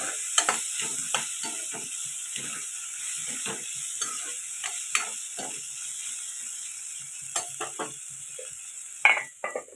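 An egg fry with green chilli sizzles steadily in a pan while a spatula scrapes and stirs in repeated, close strokes, ending with a louder scrape.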